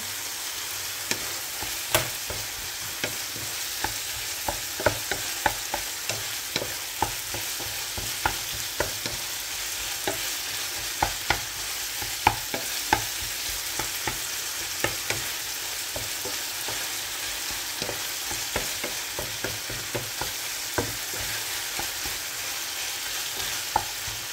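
Ground pork sisig sizzles steadily in a frying pan as garlic powder is stirred in, with frequent sharp scrapes and clicks of a utensil over a continuous close hiss and no speech.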